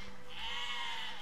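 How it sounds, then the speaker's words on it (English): A sheep in the physics-building game Besiege lets out a single drawn-out, wavering bleat, fairly quiet and heard alone over faint game ambience. "Stupid suicidal sheep are the end of me!"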